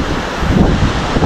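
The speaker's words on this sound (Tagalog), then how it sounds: "Pag malakas yung alon, yung sobrang lakas" Strong ocean waves surge at the shore with steady wind buffeting the microphone, a continuous loud roar and rumble with no voices.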